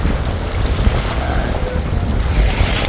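Sea waves washing ashore at a beach along the Boulevard road in Masbate City, a steady broad wash of surf with wind buffeting the microphone and no voices.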